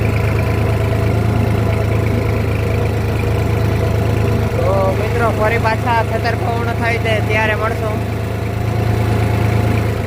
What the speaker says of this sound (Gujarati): ભાઈને ટ્રેક્ટર નવું લેવાનું છે એટલે એ ટ્રેક્ટરની ટેસ્ટ ડ્રાઈવ લે છે